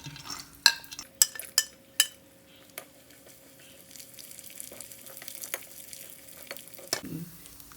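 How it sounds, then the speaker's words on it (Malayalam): Cashew nuts and raisins frying in a pan for payasam, a soft steady sizzle beneath several sharp metallic clinks and taps of a spoon against the pan, close and fairly quiet. "അണ്ടിപ്പരിപ്പ് മുന്തിരിയും വറുത്ത് കൊടുക്കുക."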